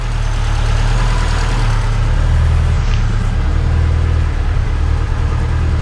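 A Yeti snow sled engine on a Link G4+ Thunder ECU idles just after its first start, hunting a little around idle: a loud, close, continuous low rumble with a strong throb and broad mechanical hiss, holding steady throughout with no voices.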